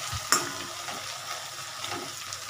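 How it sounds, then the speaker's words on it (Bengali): Onions browning in a pan of oil for chicken kosha, a brief close sizzle with a sharp utensil knock near the start and light stirring after. "আস্তে আস্তে পেঁয়াজটা ভাজা হয়ে যাচ্ছে, একটু ব্রাউন ব্রাউন হয়ে যাচ্ছে।"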